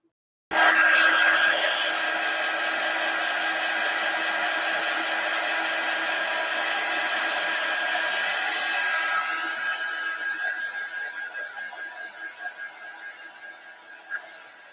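A hair dryer switches on abruptly and blows steadily and loudly, heating tape on watercolor paper, then its airflow wavers and fades toward the end.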